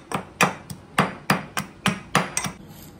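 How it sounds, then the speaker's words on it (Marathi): Green chillies and garlic pounded in a stone mortar and pestle, about ten sharp, heavy thuds in a steady rhythm, close and loud, with nothing else heard. "खलबत्त्यामध्ये मिरची आणि लसूण कुटून घेते मी"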